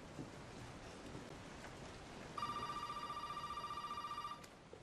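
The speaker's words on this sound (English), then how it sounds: "Phone call." A telephone rings in Resident Evil 7, a faint electronic trill starting partway in and repeating in rapid pulses over a soft rain-like background hiss.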